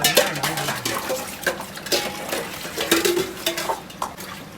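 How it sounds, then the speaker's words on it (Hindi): Dishes, pots and pans being washed and scrubbed by hand with water, giving irregular clinks, clatters and scraping strokes at close range with no speech. "बर्तन मांझ के थक गया हूँ"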